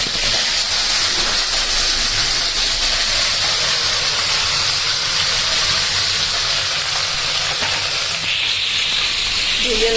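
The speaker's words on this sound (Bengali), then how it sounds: "আমি হচ্ছে পনিরগুলো ভেজে নেবো ভালো করে।" Paneer cubes frying in a hot kadai give off a steady, close sizzling hiss that carries on without a break, with no talking over it.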